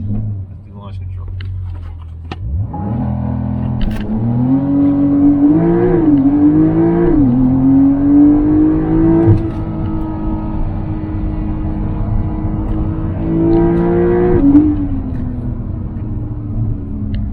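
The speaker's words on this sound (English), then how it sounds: "Let's do launch control." A 2021 Porsche 911 Carrera S launching under launch control: engine held at a steady rev, then a sharp surge with the pitch climbing through several gear shifts, loud and close from the cabin.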